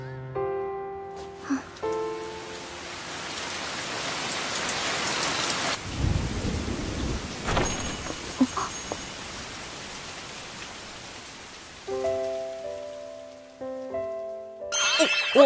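Steady rain pours down with a deep rumble of thunder midway. Soft tonal music sounds at the start and again near the end.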